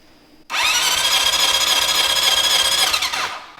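A blown engine in a Honda CB750 cafe-racer motorcycle cranks on the starter, a loud, steady whirring and grinding run of about three seconds that starts abruptly and cuts off, with no voices.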